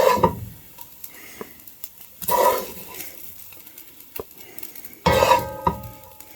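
A bamboo spoon scrapes and scoops hot dog fried rice out of a pan in three distinct bursts, separated by quieter stretches with faint light clinks, close up and with no voices.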